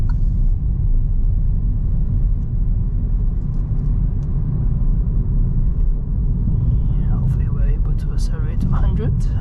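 A 2022 Kia Stonic 1.4 petrol accelerating on the road, heard from inside as a steady low engine and road rumble under someone talking.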